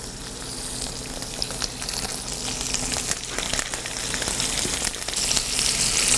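Chicken breast frying in oil over low heat, a continuous crackling sizzle with scattered pops that grows slightly louder toward the end.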